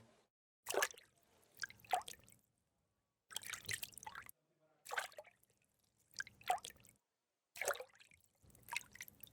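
Bath water sloshing and splashing in a hot tub in Kingdom Come: Deliverance II, coming in five or six separate bursts of wet swishing with silent gaps between them, fairly close.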